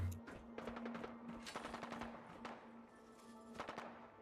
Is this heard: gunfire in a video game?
yes